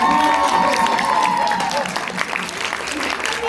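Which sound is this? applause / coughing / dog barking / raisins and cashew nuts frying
applause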